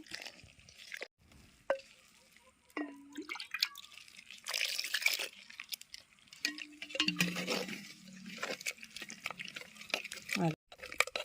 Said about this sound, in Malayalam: ഇച്ചിരി വെള്ളം ഒഴിച്ച് കൊടുത്തിട്ട് ഇങ്ങനെ കലക്കണം കലക്കണം ഇങ്ങനെ കലക്കി